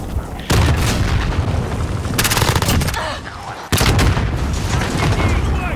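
Heavy booms from a rocket-launcher explosion punch through a steady roar of rapid gunfire in Call of Duty Modern Warfare multiplayer; two loud blasts land a few seconds apart amid continuous battle noise.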